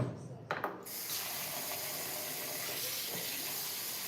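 Tap water pours steadily into a sink, rinsing uncooked lentils for lentil soup. A few clattering knocks come first, then the stream runs loud and even to the end.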